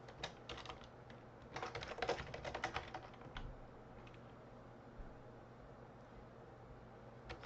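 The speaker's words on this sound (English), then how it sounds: "So that's typing." Fingers type on a computer keyboard in a quiet room, a soft flurry of clicking keystrokes that clusters densely for a couple of seconds and then trails off into sparse taps over faint background hiss.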